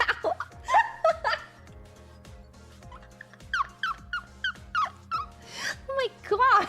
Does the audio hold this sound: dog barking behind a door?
yes